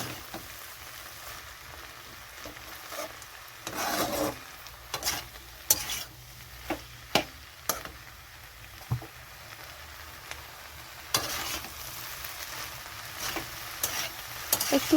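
Malabar spinach with mussels fries in a pan for a village-style chorchori, a soft sizzle broken by intermittent spatula scrapes and knocks, close and fairly quiet.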